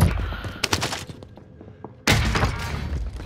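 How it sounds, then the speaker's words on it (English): Explosive bullets fired in a video game, a burst of sharp shots followed by a brief lull and then a loud, dense crack of gunfire. "Explosive bullets."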